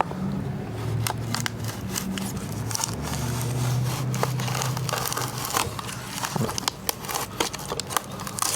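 Close crinkly cutting and scraping as a piece of insulation is trimmed to fit during a vintage truck camper restoration, irregular snips and rustles over a low steady hum.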